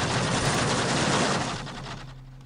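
Dense, continuous gunfire in the Dawn of War video game, a loud, sustained fusillade of rapid shots that thins out toward the end.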